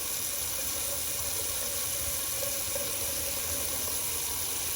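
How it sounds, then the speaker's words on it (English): Steady rushing cold water from a tap, continuous and even, running close by with no voices. "Do a little cold water rinse."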